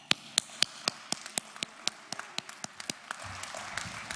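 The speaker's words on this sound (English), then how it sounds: "Let's give a round of applause for Brandon Valley's homecoming" A small audience at a school welcome session giving sparse, scattered claps, a few distinct hands slapping in a loose rhythm at moderate distance, thinning out toward the end.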